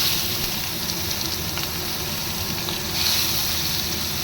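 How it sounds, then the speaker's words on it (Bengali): Onions frying in hot oil make a steady, close sizzle with a broad hiss that runs evenly throughout, swelling slightly toward the end; no one speaks. "পেঁয়াজটা তেলের উপর দিয়ে দিচ্ছি।"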